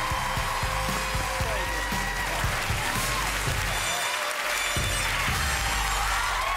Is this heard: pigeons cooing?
no